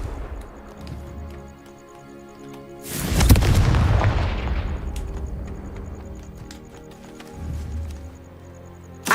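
In Hogwarts Legacy a Confringo explosion spell bursts into a loud, deep boom that swells and slowly rumbles away over several seconds, followed later by a smaller, softer thump.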